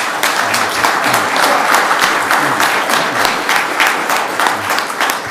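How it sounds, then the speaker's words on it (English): A crowd at a live community forum gives a sheriff candidate a round of applause, with steady, full clapping nearby throughout and no one talking. "I think we need to give him a round of applause"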